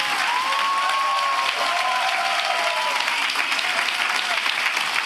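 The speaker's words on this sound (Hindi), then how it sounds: "क्या हम यीशु के बहाए हुए लहू के लिए एक अच्छी ताली बजा सकते हैं?" Church congregation clapping steadily throughout, a dense, even wash of applause from a full room, with a few voices rising faintly beneath the clapping.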